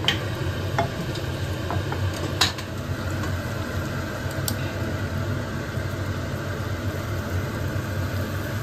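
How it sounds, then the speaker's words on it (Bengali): Eggs scrambled and stirred in a separate wok make a soft, continuous sizzle. A few sharp scrapes and clicks from the stirring utensil stand out, especially early on, and there is no talking. "আলাদা কড়াই বসিয়ে দিলাম, এখানে ডিমটাকে ভুজিয়া করে নেব।"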